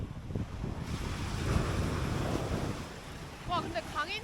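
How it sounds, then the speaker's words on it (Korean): Waves on Lake Taupo, New Zealand, wash and break against a shore in a steady, rushing surge with wind noise, and a voice speaks briefly near the end. "와 근데 강인데 파도가 차."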